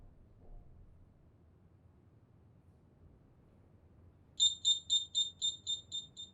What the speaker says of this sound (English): we are going to silence the alarm panel.